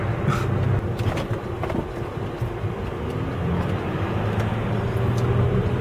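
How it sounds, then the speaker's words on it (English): A Range Rover Sport with a turbocharged diesel engine driving on the road, a steady low rumble of engine and road noise held at an even level from start to finish, with no talk over it. "So it's a turbocharged diesel, which means it's a bit quicker than your run-of-the-mill diesel."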